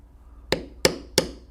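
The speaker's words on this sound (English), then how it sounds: "tap a little harder. And I'm beveling away from the nose to get the nose to stand up" A metal leather beveling tool is struck four times with a mallet while carving a bear head in leather. The sharp, near strikes are evenly spaced and each rings briefly with no talk.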